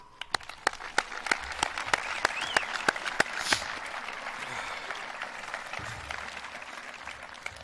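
Audience at a high school commencement ceremony claps, a brisk crackle of many hands that is loud at first and gradually thins to a softer patter, heard at a moderate distance with no talk.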